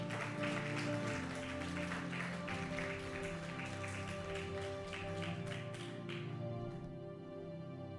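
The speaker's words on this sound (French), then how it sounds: "On acclame très fort pour le Seigneur." A church congregation claps and cheers loudly for the Lord in praise, dense sustained applause with music playing underneath, fading slightly toward the end.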